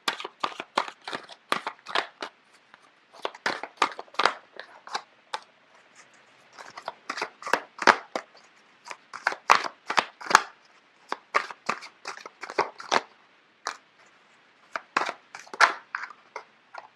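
Tarot cards being shuffled close up, in repeated bursts of crisp riffling and slapping, loud and alone, with short pauses between rounds.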